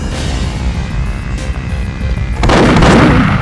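Gunfire in the Perfect Dark video game: a loud, dense burst of shots erupts after a stretch of steady rumbling game ambience and carries through to the end.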